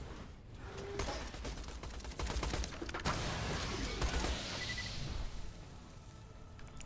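Rapid gunfire crackles in Borderlands: The Pre-Sequel. Dense bursts of shots run fairly faintly through a shootout lasting several seconds, with no talking.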